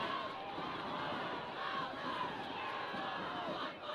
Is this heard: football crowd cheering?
yes